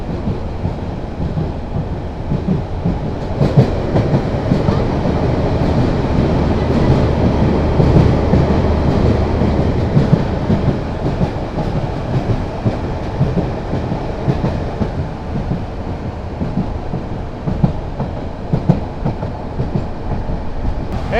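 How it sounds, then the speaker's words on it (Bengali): The Saikat Express on the new Chattogram to Cox's Bazar line runs at high speed, making a loud, continuous rumble with a rhythmic rail clatter that carries on for the whole stretch. No one speaks. "ট্রেন কিন্তু বিশাল স্পিড নিচ্ছে, বিশাল।"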